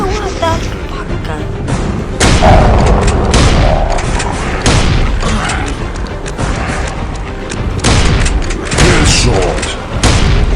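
Gunfire and heavy booms from a zombie video game, rapid loud shots and thuds in dense overlapping bursts with a voice speaking over them.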